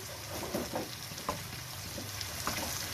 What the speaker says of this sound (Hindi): तो चलिए इनको थोड़ा सा भूनते हैं।